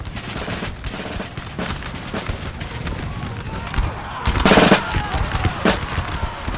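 Musket volleys in a Napoleonic battle in Napoleon Total War crackle as a ragged fusillade of overlapping shots, swelling into a louder dense burst near the end, with someone talking over the gunfire.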